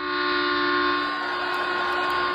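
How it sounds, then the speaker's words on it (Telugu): A train pulls into a platform with a steady, sustained tonal hum and horn-like drone, moderately loud and continuous throughout, with no voices. "ప్లాట్ఫామ్ మీదకి ఆ ట్రైన్ వచ్చింది"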